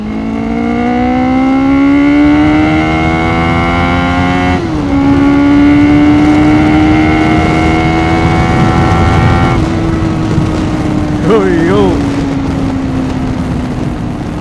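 A Honda CB400 Super Four Hyper VTEC Spec III four-cylinder motorcycle pulls hard through its gears, the engine note climbing smoothly in rising sweeps with brief dips at each shift, loud and close with steady wind roar.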